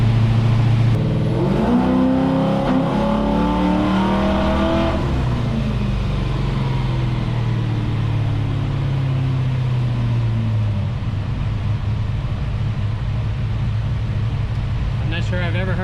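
LS-swapped Impala engine under Holley Terminator X tuning with extra timing, a loud steady drone that rises in a rev then holds and slowly falls back, close to the microphone.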